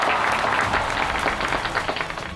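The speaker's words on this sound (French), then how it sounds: "je vous demanderai à tous de les accueillir sous un tonnerre d'applaudissements" An audience gives dense, steady applause to welcome a village dance team. The clapping is continuous and fairly close, with no voices heard over it.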